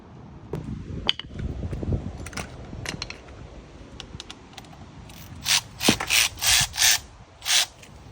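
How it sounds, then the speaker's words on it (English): A hand ratchet spins out front suspension bolts on a Duramax truck, giving a run of fast clicking bursts, then several louder, distinct ratcheting strokes close by with short pauses between them, with no talk. "I'm gonna take them off with a ratchet"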